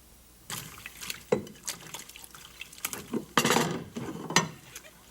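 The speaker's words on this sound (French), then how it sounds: "lave la vaisselle mieux que ça." Dishes clink and rattle in a sink while water splashes and runs intermittently, close by, with a few sharper knocks of crockery.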